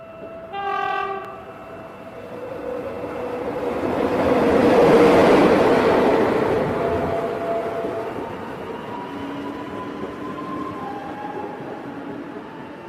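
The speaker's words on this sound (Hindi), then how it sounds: "फिर थोड़ी देर बाद वहाँ से एक ट्रेन गुजरती है।" A train roars through a station without stopping, building from a distance to a loud rumble of rolling wagons near the middle and then fading away, with a horn blast early on and faint horn tones later.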